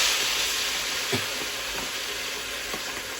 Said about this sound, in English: that is a hot pan of oil waiting to be fried up. Onions.